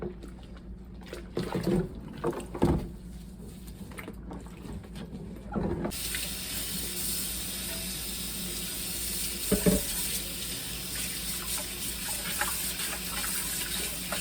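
Tap water runs into a kitchen sink of warm soapy water for washing greasy dishes, opening with a few clinks and knocks, then a steady close gushing stream that continues to the end.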